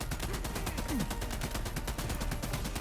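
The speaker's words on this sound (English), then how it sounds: "the Kopeng M42 assault rifle, a reliable corporate standard rifle with a high fire rate and steady balance" Kopeng M42 assault rifle firing in the video game The Expanse Osiris Reborn, a rapid, evenly spaced automatic burst of sharp shots that runs steadily for about three seconds.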